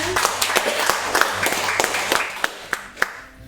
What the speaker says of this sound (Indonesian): Biasa kita berikan tepuk tangan